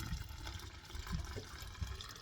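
Fluid being poured into the engine hoses of a boat during winterizing, a steady faint gurgling splash with small glugging pulses, close by and with no talk.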